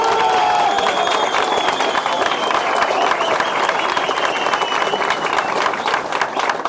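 Rally crowd applauding and cheering, a steady, loud wash of clapping with raised voices throughout, close and unbroken.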